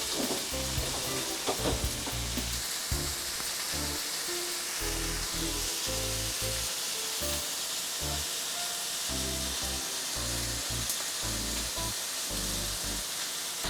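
Thinly cut ribeye steak fries in a pan with potatoes and onions, giving a steady, loud, close sizzle with occasional stirring clatter and no talking.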